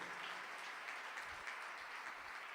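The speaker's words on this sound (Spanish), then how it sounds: "Damos un aplauso para ellos, que lo oigan bien fuerte." A church congregation applauds at a live-streamed service, a steady wash of many hands clapping at moderate distance with no clear voices over it.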